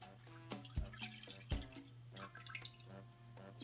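Half and half milk is poured into a tres leches mixture, coming through as soft, close liquid splashes and irregular drips with a few light bumps, quiet overall.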